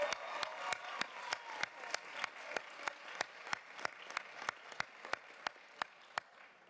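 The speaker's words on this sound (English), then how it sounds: "One more round of applause for Addie." A small audience at a board meeting claps in slow, sparse, evenly spaced beats, each clap sharp and distinct in a quiet room, with no voices over it.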